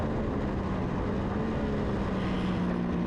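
Lightweight supersport racing motorcycles roar past side by side up the front straight at Blackhawk Farms Raceway, a loud sustained engine drone with a steady high whine throughout.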